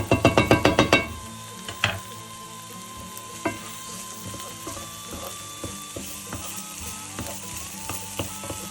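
Chopped onions, green bell pepper and coarsely minced garlic sizzle in a pan for chili con carne, opening with a quick run of loud knocks as ingredients drop in, then a steady close frying hiss with scattered clicks of stirring.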